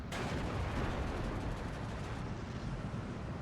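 An off-map artillery barrage strikes in the World War II strategy game Steel Division 2, a loud, dense, sustained rumble of overlapping explosions filling the mix with no talking.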